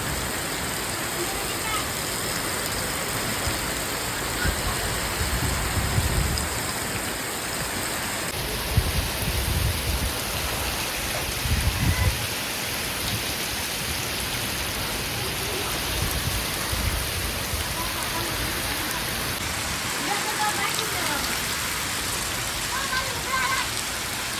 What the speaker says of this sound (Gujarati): વરસાદ ચાલુ થઈ ગયો